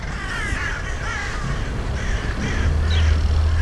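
Ravens caw in the Spreewald countryside, several harsh overlapping calls from a few birds, fairly loud and close, with a low rumble building toward the end.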